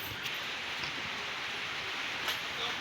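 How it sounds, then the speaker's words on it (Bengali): Steady rain falls outside in a rural village, a continuous even hiss of drops with no other clear sounds. "বৃষ্টি, এই যে বাইরে বৃষ্টি।"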